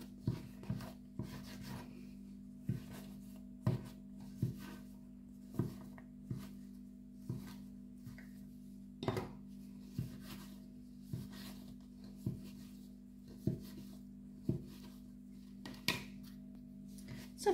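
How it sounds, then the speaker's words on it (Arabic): Sticky, floured brioche dough being cut and shaped into small balls on a floured work surface, giving soft repeated rubbing and patting sounds in a steady rhythm, close and quiet, with no talking. "هاد العجين اللي قطعت هكذا كنشكلهم هكا كويرات"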